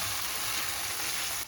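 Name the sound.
black beans pan frying in chili oil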